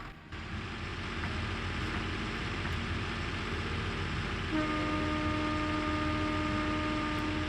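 Train moving in Microsoft Train Simulator, a steady loud rolling rumble and hiss throughout, joined by a sustained tonal horn-like drone in the second half.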